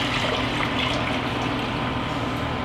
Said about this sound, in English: we're going to pour in the mixture that we strained, and this is the strained blackberries and the water